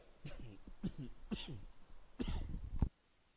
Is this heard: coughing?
yes